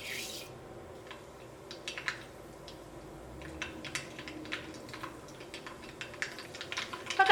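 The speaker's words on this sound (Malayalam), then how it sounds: "ഈ ചൂടായ വെളിച്ചെണ്ണയിലേക്ക് ആദ്യം തന്നെ കടുകിട്ട് പൊട്ടിക്കുക." Mustard seeds pop and splutter in hot coconut oil, starting as scattered sharp crackles and growing denser toward the end, close and fairly quiet with no talking.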